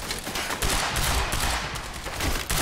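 Rapid, dense bursts of gunfire in the video game Quantum Break crackle continuously, loud and close, like sustained automatic shooting with a few sharper spikes.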